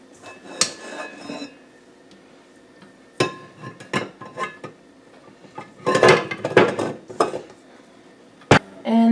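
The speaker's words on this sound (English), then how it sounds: "I'm gonna scrape this and then put it back" A spatula or utensil scraping Viennese shortbread cookie dough around a bowl, producing irregular clinks, knocks and scrapes in scattered bursts, with a busier cluster of clattering near the end, close and fairly loud.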